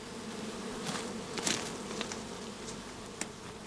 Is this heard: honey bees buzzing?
yes